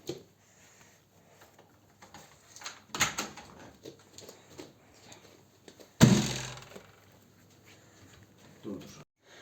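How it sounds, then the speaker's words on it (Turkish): Door swinging open in the Roblox horror game Doors, a sharp loud thunk with a brief burst of noise, set among quieter game sounds and intermittent talk. "Ben kapıyı açıyorum."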